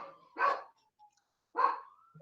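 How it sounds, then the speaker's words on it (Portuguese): A small dog barking indoors, two sharp barks about a second apart with quiet between them, moderately close and with no talking. "O cachorrinho late sem parar"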